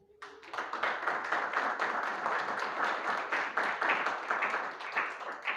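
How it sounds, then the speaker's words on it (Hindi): A congregation at a Friday fasting prayer meeting claps together, producing a dense, sustained wash of applause with rapid overlapping hand claps that starts abruptly and keeps going at steady loudness. "ताली बजाएं।"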